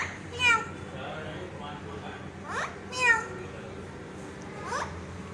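Several short, high-pitched meow-like calls in a bird's voice imitating a cat, spaced irregularly over faint background noise.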